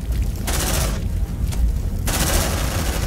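Sentry gun in the video game Aliens: Dark Descent firing loud rapid automatic bursts, a dense rattling fusillade that starts and stops in short volleys.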